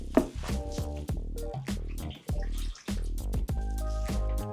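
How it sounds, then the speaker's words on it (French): Water is poured onto a sugar base for homemade mojito syrup, producing close, gurgling and splashing pours with rising liquid tones in several short bursts. "nous ajoutons cette eau à notre base sucre"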